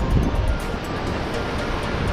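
Sea water washes in at a beach with a continuous broad rushing wash and a slight swell near the start, buffeted by wind against the microphone.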